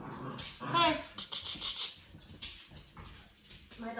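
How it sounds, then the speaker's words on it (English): Two dogs wrestle and play at home, giving close scuffling, panting and small grunts in rapid bursts with faint vocal sounds mixed in. "My dogs think they're wrestlers"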